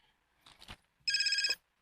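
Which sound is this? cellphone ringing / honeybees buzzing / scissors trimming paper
cellphone ringing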